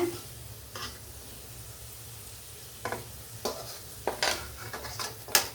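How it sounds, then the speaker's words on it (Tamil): Potatoes frying in oil with a low steady sizzle, broken by a few sharper clinks and scrapes of a utensil against the pan toward the end, no voices. "உருளைக்கிழங்கு இந்த மாதிரி பொரிச்சுக்கோங்க"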